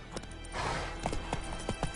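Roach, a horse in The Witcher 3: Wild Hunt, trots with a steady, rhythmic clip-clop of hooves, close and clear, with a soft neigh-like texture between strides.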